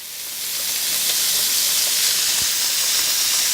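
Garlic oil poured into a hot pan while cooking salmon, giving a steady, loud hiss and sizzle that builds in the first half second and then holds evenly, with no talk over it.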